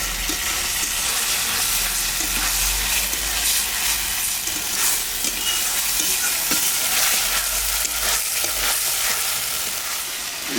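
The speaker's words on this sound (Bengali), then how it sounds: "হয়ে গেছে বন্ধুরা মশলা কষাটা" Spice paste for pangas fish curry sautéing in a pan, a loud, dense, continuous sizzle with stirring scrapes throughout, heard close with no talking.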